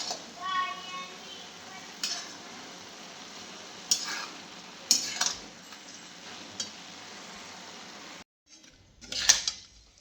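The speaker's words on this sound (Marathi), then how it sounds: "गॅसवर एका कढईमध्ये मेथीची भाजी टाकली" Methi bhaji, fenugreek greens, cooking in a wok on a gas stove, giving a steady low sizzle with scattered stirring scrapes and clinks of a utensil against the pan, a brief pause near the end.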